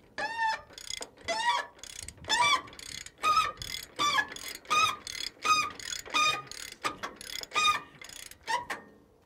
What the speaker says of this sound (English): We have our 3/4 drive ratchet.